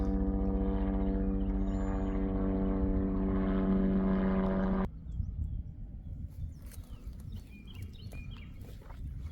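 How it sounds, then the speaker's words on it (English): A helicopter passes over the Goodwater Loop trail near a river bridge in Georgetown, Texas, as a loud, steady droning rotor and engine hum that cuts off abruptly midway, leaving quiet outdoor ambience with faint birdsong. "Comes the first helicopter of the day."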